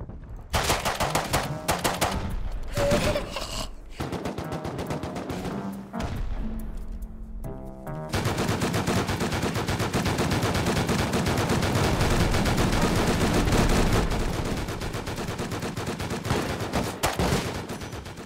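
Dense automatic gunfire from the video game Rust during a base raid: loud, continuous bursts of rapid shots that thin out briefly near the middle, then resume as a sustained barrage.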